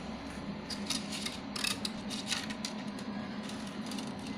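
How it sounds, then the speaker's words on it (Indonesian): Scissors snip close by, a few quick crisp cuts trimming a 3D printer filament tip, over a steady low background hum. "ujung dari filamen ini sebaiknya kita runcingkan dulu memakai gunting atau tang"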